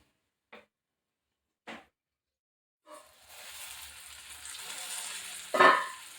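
Young flat beans (papdi) steam in a covered pan on the stove, a steady soft hiss and sizzle building after a few faint clicks, with a louder clatter near the end.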